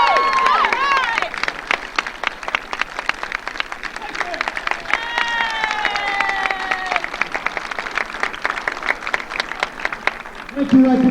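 Audience applause breaking out at a British Invasion-themed dinner, sustained clapping from a room full of guests with scattered cheers and whoops, while a host's voice speaks over it near the start and end.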